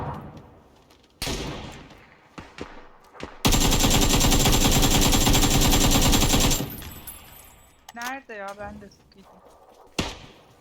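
Gunfire in PUBG: scattered single shots, then a long sustained burst of automatic fire lasting about three seconds, followed by a few more sharp reports, with players talking between the shots.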